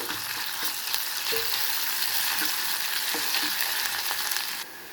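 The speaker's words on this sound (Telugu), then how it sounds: "అల్లం వెల్లిపాయ పేస్ట్ వేస్తున్నానండి. మంచిగా కలిసేటట్టు కలుపుకోవాలి." Ginger garlic paste sizzling loudly in a hot pan, a dense continuous frying hiss with occasional soft stirring knocks, cutting off abruptly near the end.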